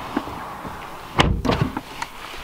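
A Porsche GT2 RS door handle is pulled and the door unlatches and swings open, giving a sharp mechanical clunk followed by a few softer clicks and knocks, close up with no talking.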